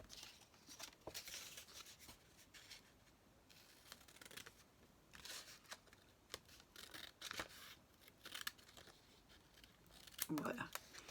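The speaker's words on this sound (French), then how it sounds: "je vais couper à la main avec mon grand ciseau" Large hand scissors cut through paper for a scrapbooking card, giving crisp snipping and rustling bursts at an irregular pace, close and fairly quiet, with handling noises between cuts.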